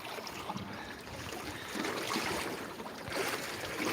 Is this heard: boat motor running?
yes